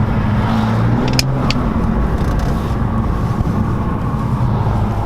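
A BMW M235i running a Dinantronics sport tune accelerates hard, its engine a loud, steady drone with a constant low rumble and no voices.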